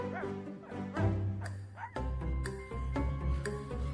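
A cartoon dog barks in short, bright yips, several in quick succession over a soft musical backing, close and clear with no talk.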